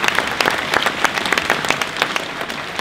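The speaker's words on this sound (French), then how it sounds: "Oui, vous pouvez les applaudir au fur et à mesure." An audience applauds visiting mayors from twin towns at a speech by the mayor of Compiègne, a dense steady wash of clapping with individual claps standing out.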